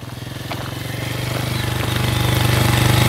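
Motorcycle engine revving up, a rapid pulsing putter that climbs steadily in pitch and grows louder over a few seconds, close by.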